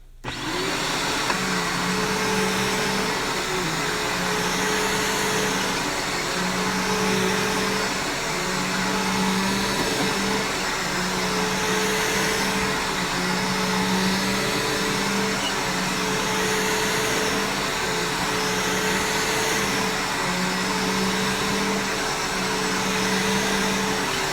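A Bissell Power Force upright vacuum cleaner runs steadily and loudly with a constant motor whine and airflow roar, its pitch holding level for the whole stretch with no talking.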